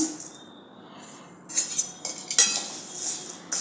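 Sorghum grains are tipped into a hot kadhai on low gas and stirred, giving light rattling, scraping and clinking from the metal pan in short uneven bursts, close and fairly quiet, with no talk.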